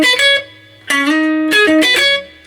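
Electric guitar riff, played with slides between sustained notes in a short phrase of three bursts separated by brief gaps, clear and up close with no talking.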